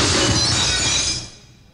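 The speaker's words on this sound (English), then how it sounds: "Going by the sounds of glass, it probably is actually a chandelier." A chandelier crashes down in the horror game Corpse Party, glass shattering in one loud, bright burst that rings briefly and then fades into quiet.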